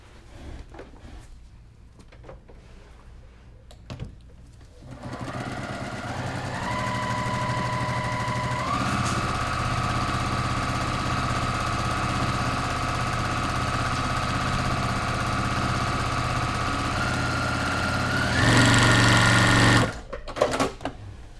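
A sewing machine stitches a seam on a quilt block, running in a long continuous whir that starts after a few quiet seconds, shifts speed partway through, briefly intensifies near the end, then stops.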